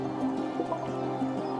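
Drinking fresh water in the survival game Unveil makes a short liquid squish and drip effect that is brief and steady at moderate level, with no voice.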